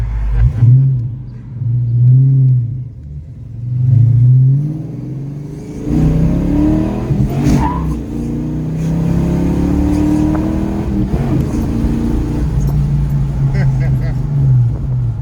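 Stock 1990 Ford Mustang GT with a 70mm BBK throttle body rumbling through revs and pulling away, deep engine drone swelling and surging up close while a man and a passenger talk over it.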